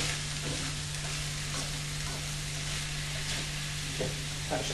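Vegetable stir fry sizzles steadily in a hot pan with pepper added, a continuous frying hiss with soft scraping stirs and a few light clicks of the utensil against the pan, close and alone.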